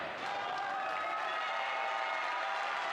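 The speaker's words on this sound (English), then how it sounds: "South crowd is really getting into it with the I believe that we will win speed" A basketball crowd at a boys' high school game between SM South and SM West cheers and chants before tip-off, a steady, distant roar of voices and clapping filling a gym.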